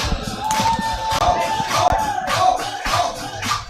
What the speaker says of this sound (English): please together for 14 Netherlands and Great Britain, please clap your hands